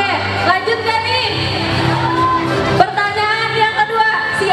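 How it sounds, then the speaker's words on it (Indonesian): Audience at a school fair event clapping and whooping, a loud, dense burst of applause and cheering that swells and fades, with shouts rising over it. "Tepuk tangan buat Teh Nadira."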